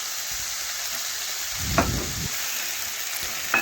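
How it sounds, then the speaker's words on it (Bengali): Spice paste sizzling in a pan as it is sautéed and stirred for an egg curry, a soft steady frying hiss with a few louder scraping stirs in the middle and near the end. "এখন ভালোভাবে মশলা বেশ কিছুক্ষণ ধরে আমি কষিয়ে নেব"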